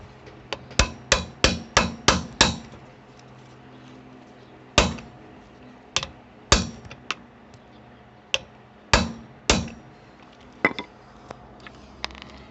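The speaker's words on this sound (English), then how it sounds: "just got an hammer, bash it in" Sharp metallic hammer blows drive a socket onto a Citroen or Peugeot locking wheel nut, a quick burst of about eight strikes, then scattered single hits with pauses between them.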